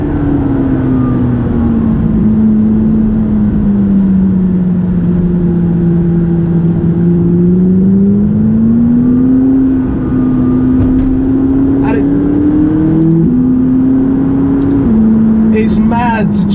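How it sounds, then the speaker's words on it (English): A McLaren 570GT sports car cruising twisty country roads in Gloucestershire, its engine droning steadily throughout with small pitch shifts as it changes speed, plus a few brief clicks near the end. "The 570 GT and I'm using it to do the twisty and the turny country roads in Gloucestershire."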